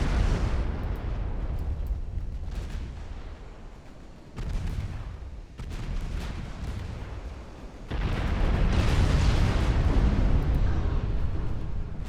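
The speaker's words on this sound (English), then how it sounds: "One 12-inch turret blown off, the other one just destroyed." Heavy rumbling blasts as battleship turrets, including a 12-inch turret, explode in a 1905-era naval battle game, booming in repeated loud surges with sustained roaring and crackling between impacts.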